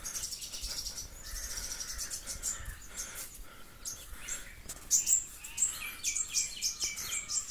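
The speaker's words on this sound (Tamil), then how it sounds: "குருவிங்க" Sparrows chirp near a temple in K.G. Kandigai near Thiruthani, a quiet cluster of short, high tweets repeating irregularly, growing busier toward the end.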